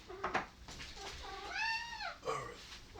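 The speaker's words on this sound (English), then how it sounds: "this is my cat, Jaden" A pet cat meows in a room, making a few short chirping calls followed by one drawn-out, rising-and-falling meow, close and clear, with no talking over it.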